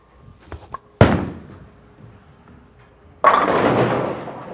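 An Ebonite Entity bowling ball crashes into the pins in a bowling alley, with a sharp impact followed by a loud, sustained rumbling clatter of pins after a brief lull, and no voices.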